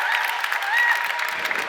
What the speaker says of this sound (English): Let's have a big round of applause for Dominic Wilcox